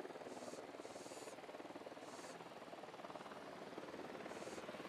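An approaching helicopter in Ghost Recon Wildlands gives a steady, faint rotor chop and engine drone, even and continuous throughout, with brief higher swishes layered on top.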